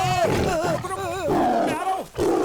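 A tiger roars loudly in a tense fantasy-adventure jungle scene, a long wavering growl that rises and falls over about two seconds with a brief dip before it swells again.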